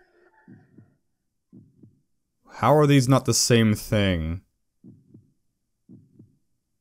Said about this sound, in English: the heartbeat's making this scene as intense as it would be